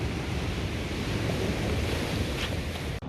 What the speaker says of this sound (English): Some beautiful waves coming in behind.